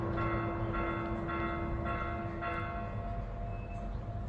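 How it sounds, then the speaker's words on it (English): Mission church bells ring in a slow, regular series of strokes, fairly faint and distant over a steady low background hum, in Baja California. "bells in the mission are ringing"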